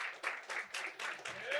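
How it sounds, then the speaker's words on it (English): A small group claps in a short burst of about a second and a half, uneven and fairly close, for a man being welcomed onto a martial arts podcast, with a voice talking over it. "Give that man a round of applause"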